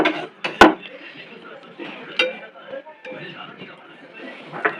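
Chicken being stirred in a pot while chicken soup cooks, with a sharp metal clank of the spoon against the pot near the start and softer scraping and knocks scattered throughout, under a person talking.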